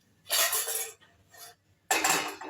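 Metal cookware clanks in a home kitchen as a pot of tea is set on the stove, with two loud close clattering bursts separated by a softer knock and no talking.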